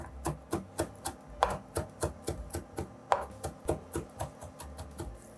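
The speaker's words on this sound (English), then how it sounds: "we're just gonna run the knife over the top of it, mince this nice and fine" Knife mincing herbs on a cutting board for chicken soup, a steady run of sharp, close taps about three per second with a couple of harder strikes, heard alone.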